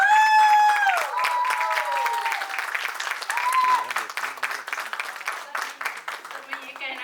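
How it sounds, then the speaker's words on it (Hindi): Hall audience applauding at a drama show, with clapping and some cheering that is strong at first and then turns more scattered, while tonal voices or music sound over the start. "जोरदार तालियां"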